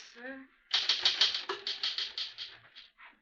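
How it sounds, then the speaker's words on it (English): Rapid, even keystrokes on a manual typewriter in an office, a dozen or so sharp clacks in a steady run, close and fairly loud, following a short spoken line. "Finish typing it and I'll sign it."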